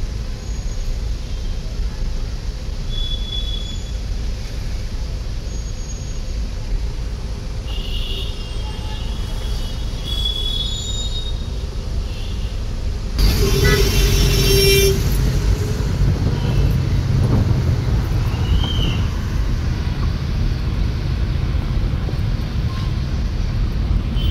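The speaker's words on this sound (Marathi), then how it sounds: "खूप ट्रॅफिक आहे रस्त्यावर" Heavy city road traffic in Mumbai rumbles steadily from inside a car stuck in a jam, with car horns tooting now and then and a louder passing burst midway, and faint voices in the background.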